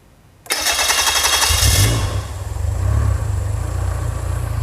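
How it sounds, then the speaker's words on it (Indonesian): A car engine cranks, catches and then runs rough on a workshop training engine-management system, with a loud uneven roar settling into a heavy, irregular idle and throbbing low vibration, with no talking. "Suara tidak tentu dan juga mesin bergetar sangat keras."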